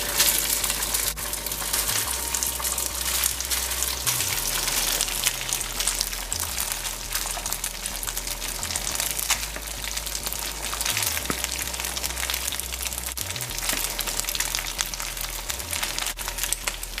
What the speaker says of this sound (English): My oil is hot. I'm going to add the rice.